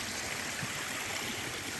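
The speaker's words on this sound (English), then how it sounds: "There's water going down as much as there is rocks." Mountain stream water rushing down rocks on Mount Moosilauke makes a steady, close, full roar of running water with no pauses and no talk.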